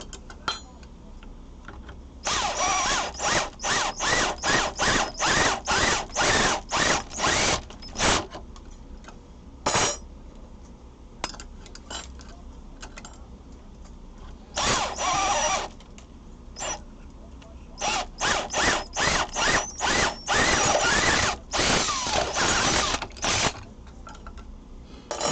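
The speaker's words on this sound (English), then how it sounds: "I am kind of drilling into the hole towards the back" Drill boring at an angle into a hole toward the back of a workpiece clamped in a vise, while making diet fork and spoon sets; loud close bursts of grinding, creaking whirr come in repeated pulses with short pauses between runs.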